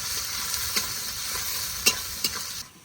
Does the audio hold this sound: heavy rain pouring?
no